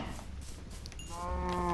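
A cow lows in the Minecraft video game, one short, fairly quiet moo that rises out of a soft background near the end.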